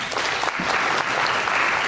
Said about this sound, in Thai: ขอเสียงปรบมือต้อนรับรองศาสตราจารย์ดร.